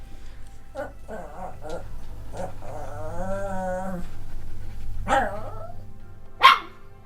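A dog barking and whining indoors, a few short yips, a drawn-out whine and a couple of sharper barks, fairly faint against a low background hum.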